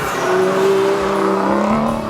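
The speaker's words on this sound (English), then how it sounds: "Great thing about a big V12 like this that has light internal components is quick throttle response, instant power, great sound." A 2013 Aston Martin V12 Vantage's 5.9-liter V12 engine revving on canyon roads, a loud, steady, smooth rising drone heard up close with no talking.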